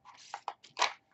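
Sticker packaging being pulled open for bubble stickers gives a brief run of close crinkly tearing and crackling, ending in a sharper rip.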